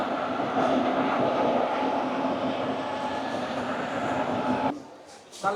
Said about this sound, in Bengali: 58029 সাঁতরাগাছি থেকে দীঘা ফার্স্ট প্যাসেঞ্জার এই মুহূর্তে দাঁড়িয়ে আছে 2 নম্বর প্ল্যাটফর্মে।